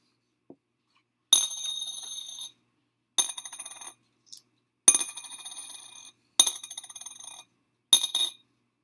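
Coins drop one after another into a piggy bank in short bursts of metallic clinking and jingling, separated by silent pauses, close and clear with no voices.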